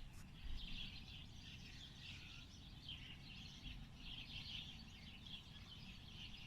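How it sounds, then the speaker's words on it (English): Flocks of birds chirp in the trees on a quiet morning, faint and distant, a busy chatter of small calls rising and falling in soft bursts over low background rumble. "can you hear those birds out there this morning?"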